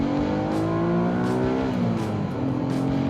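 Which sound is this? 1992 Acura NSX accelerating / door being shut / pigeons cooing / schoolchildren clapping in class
1992 Acura NSX accelerating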